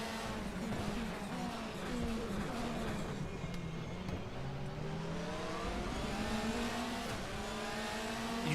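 A DTM touring race car in a racing video game roars steadily at high revs, its engine note rising and falling with gear changes and throttle, continuous and close with no voices over it.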